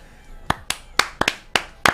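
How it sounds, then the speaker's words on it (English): Slow clap of hands, six sharp claps spaced roughly a quarter to half second apart, close and clear with no talking. "Slow clap."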